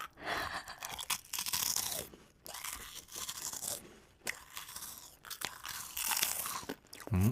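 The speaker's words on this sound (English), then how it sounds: "Oh man, you make a good crunchy sound." Close, loud crunching of a crisp snack being chewed, steady bites with brief pauses between, no talking.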